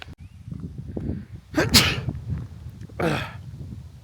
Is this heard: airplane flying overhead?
no